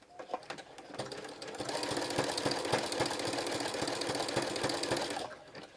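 A sewing machine stitches a fleece jelly roll dog mat, its rapid, even motor chatter starting after a few short bursts and running loud and steady before stopping near the end.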